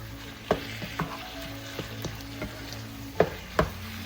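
Ground meat seasoned with fish sauce sizzles in a pan while a utensil stirs and scrapes it, the steady frying hiss broken by several sharp clacks against the pan, close-up and without speech.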